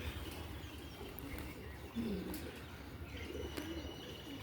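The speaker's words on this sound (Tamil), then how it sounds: "எங்கிட்ட இருக்காங்கன்னே தெரில இவ்வளோ புறாக்கள் வர்றது" Pigeons coo softly on a rooftop garden, a low murmuring call rising briefly near the middle amid faint outdoor background noise and a few small chirps.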